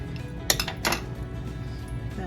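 Metal pots and pans clank and clink a few times in a resort studio kitchen, sharp close knocks over a low background hum.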